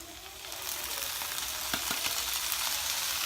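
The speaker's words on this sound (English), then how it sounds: "we're going to add a can of diced tomatoes" Drained diced tomatoes hit a frying pan with onions, giving a steady moderate sizzle and a few soft stirring knocks, heard close and alone.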